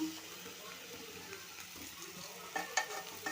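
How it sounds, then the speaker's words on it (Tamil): An egg frying in a pan and being turned over sizzles and crackles up close, with stirring scrapes and a few sharper spatters near the end. "இப்போ போட்ட முட்டையில் அப்படியே இதை நல்லா திருப்பிக்கிடுவோம்"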